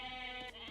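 A goat in the real-time strategy game Age of Empires 4 lets out a short, close, tonal bleat, with a strained, wavering cry that stands alone.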